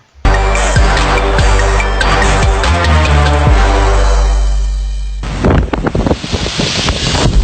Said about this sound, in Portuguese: Chuva, vento forte, a água balança como se a piscina estivesse dentro de um navio.